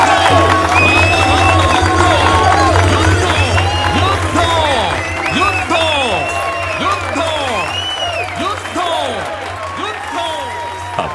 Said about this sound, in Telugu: అబ్బా, ఎన్నెన్ని చప్పట్లు!